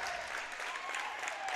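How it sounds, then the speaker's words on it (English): Crowd at a high school basketball game between Louisiana Bulldogs and Wellsville-Middletown Tigers breaks into clapping and cheering, a dense, steady wash of applause with raised voices filling the short stretch. "Big cheering crowd."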